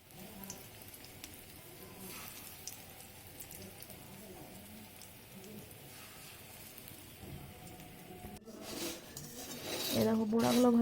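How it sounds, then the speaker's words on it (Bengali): Lentil fritters fry in a little hot oil in a wok, a soft steady sizzle with occasional clinks of utensils against the pan, growing louder and busier toward the end. "এ দেখো বড়াগুলো ভাজা ভাজা হচ্ছে।"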